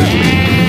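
A sheep gives a single loud, close bleat that lasts under a second, with no other sounds around it.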